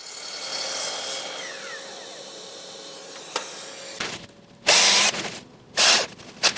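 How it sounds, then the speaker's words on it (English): A power drill whines steadily into wood, then a few short, loud bursts of drilling follow with pauses between them. "I like to pre-drill these holes to avoid the wood from splitting."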